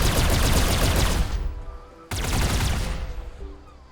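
Gunfire at a shooting range in Rimworld, a dense burst of rapid shots that fades, then a second loud volley that starts abruptly and tails off.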